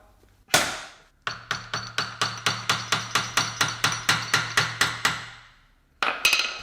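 Metal tool hammering at rusted Jaguar S-Type rear subframe parts to pry them apart: a single loud clank, then a rapid, evenly spaced run of about fifteen ringing metallic strikes, close and loud, then another brief burst.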